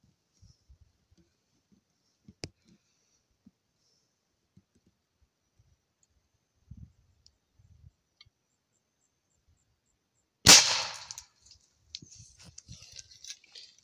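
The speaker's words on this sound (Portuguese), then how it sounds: "Mesmo com um pouquinho aí de pólvora, disparou." A muzzleloader primer firing with only half a powder charge: a single sharp, loud crack followed by brief crackling, after a long, mostly quiet stretch with faint scattered handling clicks.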